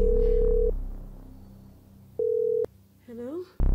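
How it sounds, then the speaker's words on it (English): A steady electronic phone ringing tone sounds twice, separated by a pause, with faint background noise; a brief voice-like warble follows near the end. "It's still ringing."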